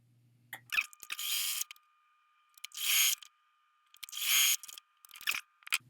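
A sewing machine stitching fabric pieces of a table runner together runs in three main bursts of close, steady motor whirring, each about a second long, with a brief final burst and quiet pauses between. No one talks.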